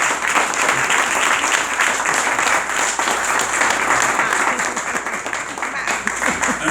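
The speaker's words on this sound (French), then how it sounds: "je vous demanderai d'applaudir mes 2 fidèles amis, les parents de Christian" Audience applause, a dense, steady clapping from a crowd that holds at full strength throughout, with some voices mixed in.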